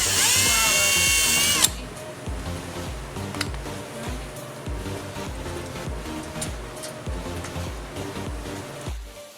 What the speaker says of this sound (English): I'm about to drill the hole in the lower splitter now